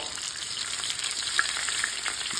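Red snapper fillets sizzle in a frying pan, a dense, steady crackle of hot oil with small pops and light stirring clicks, close and continuous.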